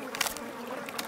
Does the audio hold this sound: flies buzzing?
yes